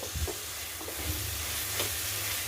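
An onion and tomato masala sautéing in a pan for dhaba-style dal fry: an even, continuous sizzle and hiss close up, with a few soft stirring scrapes and no talking.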